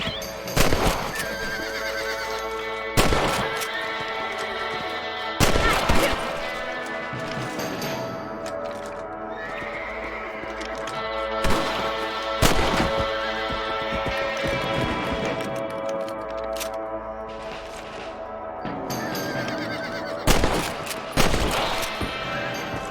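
Rifle shots crack out at intervals in the Red Dead Redemption video game, several sharp loud reports spaced across the scene, while horses neigh and hooves clop under a steady music-like ambience.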